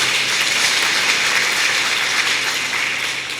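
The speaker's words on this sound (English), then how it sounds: "please clap for Bernard" An audience claps for the master of ceremonies at a staff gathering: dense, steady, fairly close applause that holds throughout and eases slightly at the end.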